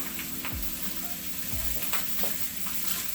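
Butcher-shop bacon fries in a Corningware pan with a continuous close crackling sizzle, broken by a few soft low thumps, and no voices.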